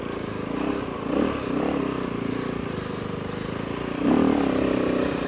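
KOVE 450 Rally motorcycle engine droning as it climbs soft sand, pitch rising and falling, with a louder surge of revs near the end; it is mid-distance and steady, with no talk.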